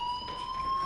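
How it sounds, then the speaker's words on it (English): A fire alarm ringing in the Life Is Strange video game, a steady, shrill electronic tone that holds for the whole brief moment, loud and close. "do you hear that fire alarm? That means you should be outside."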